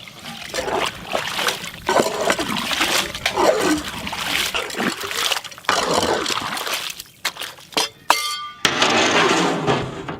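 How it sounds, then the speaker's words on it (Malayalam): Water is poured into a huge pot of roasting 300 kg camel meat with ghee, giving splashing, trickling and sloshing over busy clatter, with a louder spatter near the end. "കുറച്ച് വെള്ളം കൂടെ ഒഴിക്കാൻ പറയാം"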